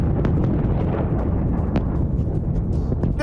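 Missile explosions from an Iranian attack on an Israeli base, a continuous heavy rumbling roar with dense low booming, loud and sustained with no pauses.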